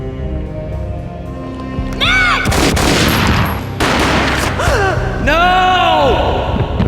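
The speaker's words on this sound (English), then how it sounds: "A gunshot boomed and she fell down in slow motion." Gunfire in the video game Max Payne: several heavy booming shots and crashes land over a few seconds, loud and close, mixed with a sharp vocal cry and a swelling musical score.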